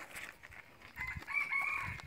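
A jungle fowl rooster crows near at hand, a long strained call rising over soft rustling and a few faint clucks, with no voices.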